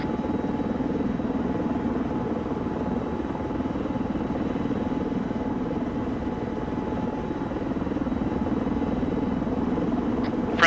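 Helicopters in a video game thrum steadily overhead, a continuous low rotor drone holding constant loudness for about ten seconds with no voices.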